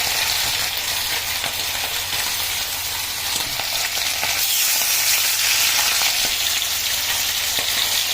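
Mackerel pieces frying in a pan give off a steady, loud sizzle with crackling spatter throughout, growing slightly louder in the second half, with no voices.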